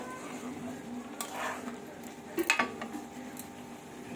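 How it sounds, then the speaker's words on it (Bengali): A spoon stirs mutton kosha with spices in a pot, giving faint scraping and clinking against metal with soft cooking sizzle underneath. "এবার ভালোভাবে নেড়ে দিচ্ছি।"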